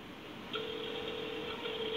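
Telephone dialing tones while calling an airline, a steady electronic tone switching on halfway through and holding to the end, close and clear over quiet room noise.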